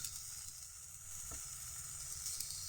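Ginger paste fries with potato curry in a pan, making a faint, even sizzle that holds steady throughout with small crackles.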